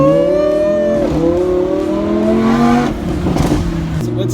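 Lamborghini fitted with gold FI Exhaust tips revving loudly up close, the engine note climbing in a long sweep, dropping briefly near the one-second mark, rising again and then falling away toward the end.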